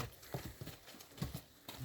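Horse hooves clopping in an uneven rhythm on a hard surface at a horse sale, fairly faint and close, with no talking.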